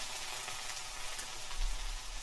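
Food frying in an ordinary pan, a steady close crackling sizzle with scattered pops, fairly quiet and continuous with no voices.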